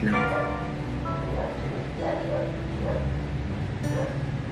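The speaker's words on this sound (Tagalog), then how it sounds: "Ang ingay ng aso." Dog barking outside at a distance, several yaps and whimpers mixed into busy background noise with people talking over it.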